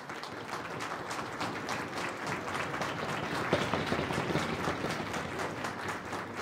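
An audience at a school or college presentation event bursts into steady applause, many hands clapping in a continuous rattling wash that holds at an even level from start to finish.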